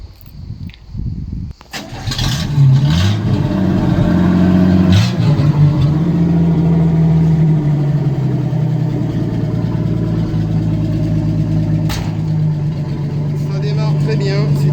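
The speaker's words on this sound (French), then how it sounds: "c'est un moteur 6 cylindres 235 CI qui ont équipé les Bel Air et pas mal de véhicules de la production Chevrolet" A Chevrolet 3100 pickup's 235 cubic-inch six-cylinder engine cranks briefly, catches and settles into a loud, steady idle close by, with a voice talking faintly at the start.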